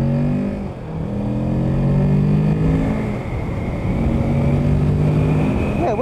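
A 2020 Kawasaki Ninja 650 motorcycle pulls away from a standstill, its engine note climbing steadily through the gears over several seconds, loud and close throughout with no talk.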